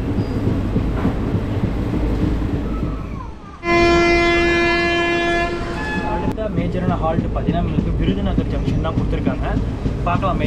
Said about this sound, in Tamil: தூத்துக்குடி மேட்டுப்பாளையம் எக்ஸ்பிரஸ்ங்க. பயங்கரமாக செம்ம ஸ்பீடில் போயிட்டுருக்காங்க.